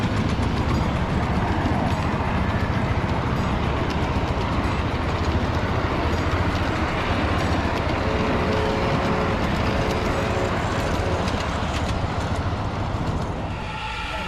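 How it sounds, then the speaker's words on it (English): A small-scale model train, a Southern Pacific PS4 class locomotive, runs steadily at a live steam meet, its dense continuous rumble and clatter staying close and loud throughout before easing slightly at the end. "First thing I saw was this beautiful Southern Pacific type PS4 class."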